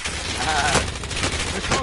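Rapid automatic pistol fire in the shooter video game Call of Duty Warzone, a short dense burst of loud cracking shots over about two seconds.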